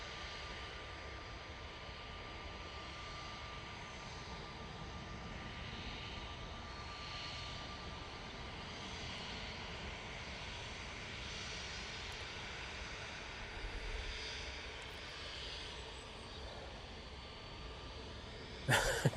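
A Virgin Atlantic airliner comes in to land, its engines a steady distant roar with a broad rumble lasting throughout, swelling slightly near the end.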